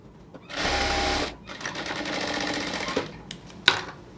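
A sewing machine runs a double line of stitching along the joint of a salwar pant. It makes a loud, steady whir for under a second, pauses, then gives a longer, softer run that ends in a sharp click.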